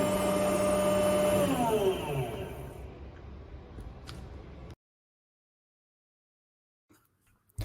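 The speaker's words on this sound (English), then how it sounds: "that was Jesse moving the printer" A CyBe concrete printer's hydraulic system runs with a steady mechanical whine and hum that drops in pitch as it winds down and stops, leaving silence and a few faint knocks.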